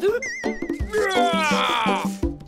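A voice imitating a Triceratops roar: a short, warbling, whinny-like vocal cry with wavering pitch, close and fairly loud, lasting about two seconds.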